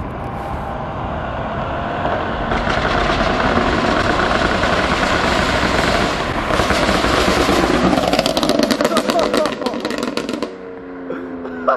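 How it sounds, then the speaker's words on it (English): Loud, rumbling exhaust from a BMW M3 Competition F80 with a decat downpipe and stage 2 burble tune, roaring steadily as the car approaches and passes, with crackling pops near the end. "Let me know what you guys think about the exhaust note on his F80 now"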